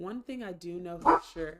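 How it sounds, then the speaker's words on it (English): A household dog barks and yips in short repeated bursts close to the microphone, with a person talking over and between the barks. "So I apologize for the dog barking."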